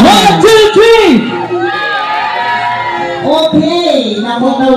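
A crowd at a ribbon-cutting for a pares restaurant opening in Calamba, Laguna, cheers and shouts loudly and continuously, with excited voices rising over the noise close by.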